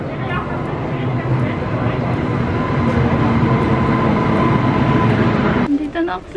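A train arrives at a station in Germany, with a loud, continuous rumbling roar and rail noise that holds steady, then eases and drops away near the end.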